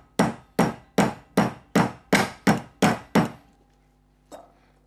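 A cleaver pounds raw meat for Persian kabab barg on a board, nine sharp, evenly spaced thuds close up, followed by a pause and one softer blow.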